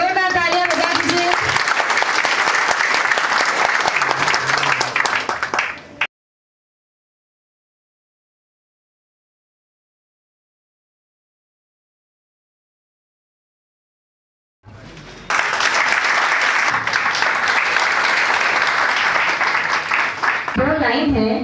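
Loud clapping from the audience at a Union Bank of India and Fino Bank event for bank mitra agents, mixed with speech. It stops dead in a long stretch of silence, then picks up again with talking over it.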